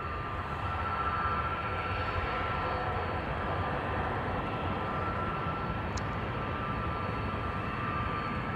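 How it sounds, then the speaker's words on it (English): EasyJet Airbus A319 bound for Prague departing from Amsterdam Schiphol's Polderbaan runway, a distant, faint, steady jet roar with broadband rumble and no voices. "Still looking to depart is this EasyJet A319 on its way to Prague in the Czech Republic."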